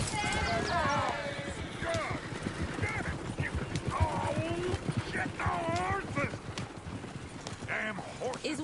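Horses pulling a coach clip-clop steadily in Red Dead Redemption 2, rapid hoofbeats close by with an occasional whinny, while voices talk over the scene.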